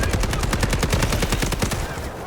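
An SMG fires a fast, continuous burst of loud, closely spaced shots in the video game Delta Force, sustained throughout before tapering slightly at the end.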